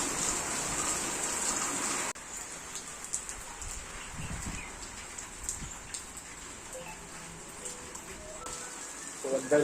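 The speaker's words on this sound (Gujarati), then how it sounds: "વરસાદ ચાલુ થઈ ગયો. જોરદાર પાણી પડે." Heavy rain pours down outdoors near a temple, a dense hiss that fades after the first couple of seconds into softer patter with scattered drips, along with some faint background sounds.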